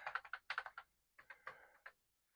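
Keys clatter on a yellowed Commodore VIC-20 computer keyboard with a faulty, unresponsive key action, a quick burst of close clicks, a pause, then a second run of presses.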